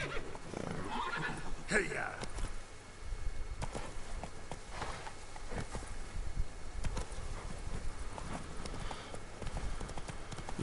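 Roach, Geralt's horse in The Witcher 3 video game, neighs sharply while her hooves clip-clop steadily on a hillside, with someone talking over the sounds throughout.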